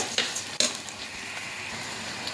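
Rice and vermicelli fry in a pan with a steady close sizzle, broken by a couple of sharp clinks from stirring near the start.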